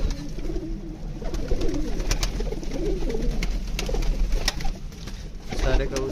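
Close pigeons coo repeatedly in low, rolling phrases, with rustling and a few sharp clicks around them; no clear speech.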